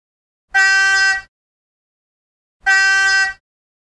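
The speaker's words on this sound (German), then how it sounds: "Signalhorn." Two identical blasts of a signal horn from a PIKO N scale model locomotive's sound decoder, each loud and tonal, lasting under a second and separated by silence.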